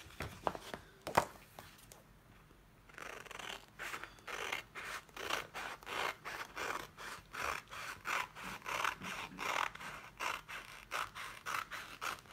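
Scissors cut through a Chalk Couture transfer sheet up close, making a steady run of rasping snips that start after a quiet moment and repeat rhythmically for about ten seconds.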